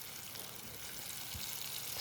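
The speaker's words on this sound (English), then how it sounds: "when the oil was hot enough, I added the fish and let it fry until it turned golden brown" Catfish fries in a pot of hot oil, giving a steady, fairly loud broadband sizzle that holds evenly and swells slightly toward the end, with no voices over it.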